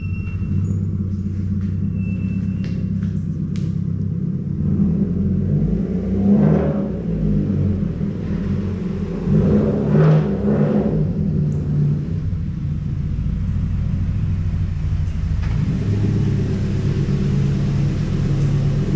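A car drives into a garage: a low steady engine rumble throughout, with a couple of slightly louder swells as it creeps in, then settles near the end.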